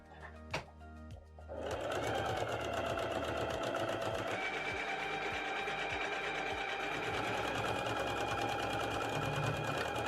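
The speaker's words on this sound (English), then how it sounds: "we'll sew a line of edge stitching right the way around until we get to the other side" After a few faint handling clicks, a sewing machine starts up and stitches steadily around a pant-leg cuff, its close, even needle chatter continuing without pause to the end.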